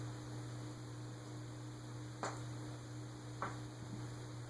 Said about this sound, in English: I'm hearing a humming and it's coming from something else. It's one of these lights or something. It's not the fan.